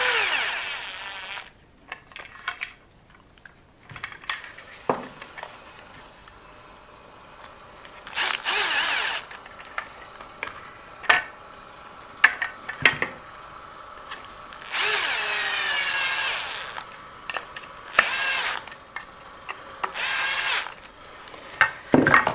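A power driver sets screws into a 2mm carbon fiber chassis kit for a WLToys 104001/104002 RC car, close up in repeated short whirring bursts of one to two seconds, separated by clicks and handling noises.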